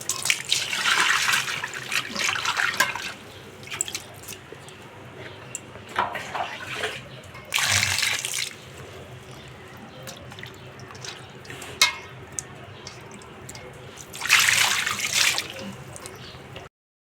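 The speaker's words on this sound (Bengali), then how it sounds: "এই যে মা মাছ ধুচ্ছে" Bata fish being washed under running water from a tap in a home kitchen, splashing and trickling in bursts with louder gushes, close by, no talking.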